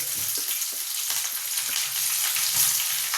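Green chillies and curry leaves fry in hot oil in a pan alongside sliced onion for Davanagere-style vaggarane mandakki, giving a steady, close, loud sizzle with faint stirring and no talking.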